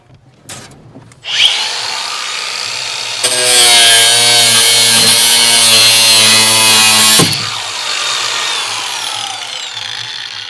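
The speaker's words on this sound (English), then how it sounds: "This right here, the cordless Mojito grinder, has been like the coolest thing I've ever bought." A cordless Makita XAG04 angle grinder cuts through material with a loud, harsh, high-pitched whine lasting about four seconds, set between quieter spin-up and wind-down motor noise close by.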